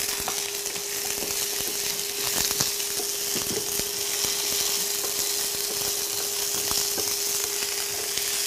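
Vegetables for an Italian chickpea and squash soup sizzling in a pot over high heat, a dense continuous crackle with occasional sharper pops and a faint steady tone underneath, close and unbroken by talk.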